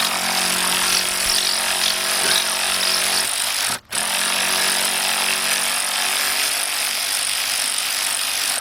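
Big Bill Earthquake XT ratchet with a 10mm deep socket on a 3/8 drive extension removing a valve cover bolt on a Jeep/Dodge/Chrysler engine: loud, continuous buzzing rattle with one brief pause, close up, no talk.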